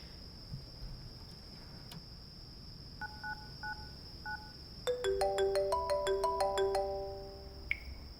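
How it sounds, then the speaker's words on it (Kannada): A mobile phone rings in a Kannada film scene: a few short paired beeps, then a bright melodic ringtone of rising notes over a steady high whine and a faint background hum, with no talk. "ಅವನ್ ಫೋನ್ ರಿಂಗ್ ಆಗ್ತಾನೆ ಇದೆ ಅಣ್ಣ"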